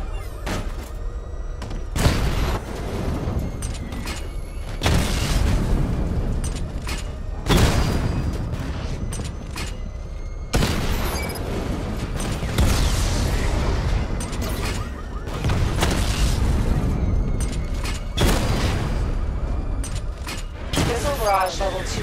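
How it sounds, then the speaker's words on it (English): In Batman: Arkham Knight, the Batmobile's missile barrage unleashes a steady run of booming explosions and metallic impacts that repeat every few seconds over game ambience, with a voice talking in places. "Charge up missile barrage to level 2 and destroy 4 active targets to complete diagnostic test."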